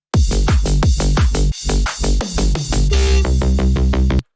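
Dancefloor drum and bass drums ending a phrase with a repeating crash cymbal, fast rhythmic hits over dense bass, loud and unbroken before cutting off.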